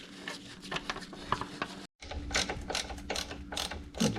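Ratchet wrench snugging the Allen screws on the front fork of a 1988-2000 Honda Goldwing GL1500, a close run of quick clicking strokes that breaks for a moment near the middle and then resumes.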